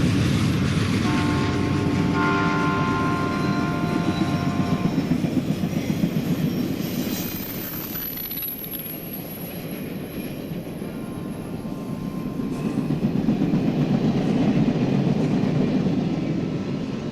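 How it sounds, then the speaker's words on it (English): An eastbound Amtrak passenger train of 19 cars, a mix of Heritage, Viewliner and Amfleet coaches with express boxes and two RoadRailers on the rear, rumbles steadily past at close range, its horn sounding early on over the continuous roar of the wheels. "This eastbound has some of Amtrak's new express boxes, along with 2 road railers on the rear of this 19-car train"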